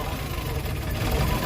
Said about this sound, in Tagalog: Makita mo yung andar ng makina, halos mamatay na.